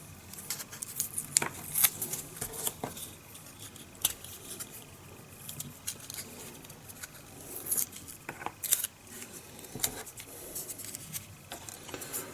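Small 1.5mm holes are cut into a part of an Airfix 1/72 Mosquito PR.XVII plastic model kit with a jig taped in place, producing faint, scattered scraping and ticking sounds at irregular intervals, with no talking.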